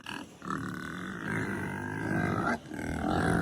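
Deep, drawn-out grunts rumble in close succession, loud and guttural, like a pig grunting nearby.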